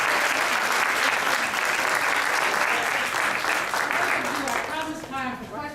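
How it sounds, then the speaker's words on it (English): An audience at a press club forum applauds warmly, a full, steady clatter of hands that gives way near the end to a voice beginning to speak as the clapping fades. "Let's just have another round of applause for all of them."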